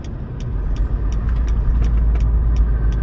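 Road traffic with trucks and tricycles passes on a rural road through rice fields in Bulacan, Philippines, a loud, continuous, close engine rumble with a steady low drone and no speech.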